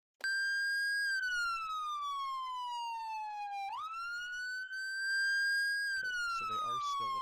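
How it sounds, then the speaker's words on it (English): A loud electronic police yelp siren on a 2021 CHP Ford Explorer in Roblox sweeps slowly, its pitch rising and falling in long wails before switching toward a faster pattern near the end. "So the sirens are a little bit loud."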